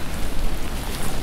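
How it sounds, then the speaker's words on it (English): Dense, hissing rain pours steadily on a lake during stormy weather while fishing, a close, loud, unbroken wash of drops with no voices. "It's getting stormy. Stormy weather."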